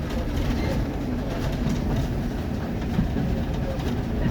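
Steam train rolling on the heritage line from Minehead to Watchet, a continuous loud rumble and rattle heard from inside a carriage, steady throughout with a faint background voice.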